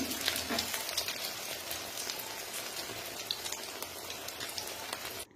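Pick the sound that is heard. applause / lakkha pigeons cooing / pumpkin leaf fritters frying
pumpkin leaf fritters frying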